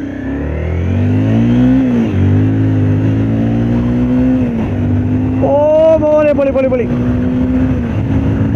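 A Honda CBR 250R motorcycle accelerates while being ridden, its loud, close engine whine climbing in pitch, dropping at gear changes, then climbing again in repeated surges.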